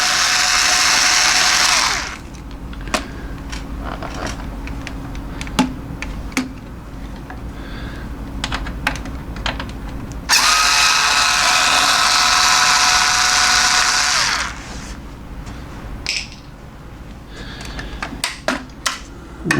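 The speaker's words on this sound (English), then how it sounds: "I've got to do the 2 screws here on the side panel as well" Two screws are taken out of the side panel of an F-300B facial steamer, with two loud, sustained powered whirring bursts separated by softer clicks and handling taps.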